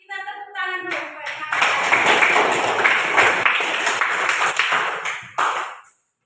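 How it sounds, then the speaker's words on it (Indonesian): A classroom of students in Indonesia breaks into dense hand clapping, loud and sustained for several seconds before stopping, preceded by a short chime-like tone. "kita tepuk tangan dulu supaya"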